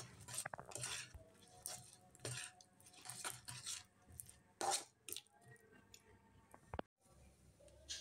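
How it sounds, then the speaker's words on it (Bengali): Peanuts being stirred into hot sugar syrup in a pan, with quiet, irregular scraping and metallic clinks of a utensil against the pan over several seconds. "এবার আমি বাদামগুলো এর মধ্যে ঢেলে দিচ্ছি। ঢেলে দিয়ে তাড়াতাড়ি আমি নেড়ে চেড়ে নিব"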